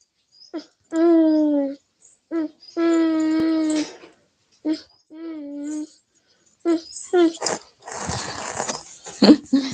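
A dog whimpers and whines in a series of high, drawn-out, wavering cries, several short and two longer, close and clear with brief silences between, followed by scuffling noise and a person speaking.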